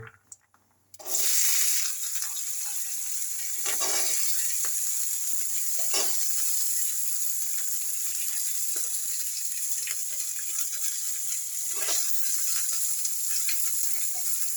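Green beans drop into a hot pan of spiced, already-fried cauliflower and potato, setting off a loud, steady sizzle that holds for the whole stretch, with a few soft stirring scrapes along the way.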